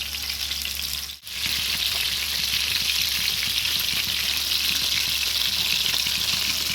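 Fish frying in hot oil in a pan gives a steady, close, loud sizzle that runs throughout, with a brief dip near the start.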